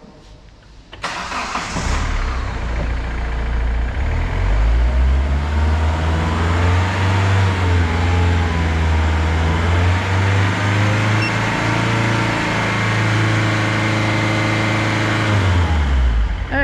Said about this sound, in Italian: Dice metti in moto e tieni premuto e accelera.